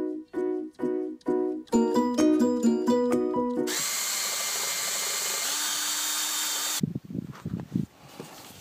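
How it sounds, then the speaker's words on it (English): Power drill boring through short metal pieces for a homemade drum kit: several short bursts of the motor, then a long steady high whine, ending in a few brief choppy spurts, close and loud with no talk. "I've drilled 6 pieces of metal 10 centimeters long."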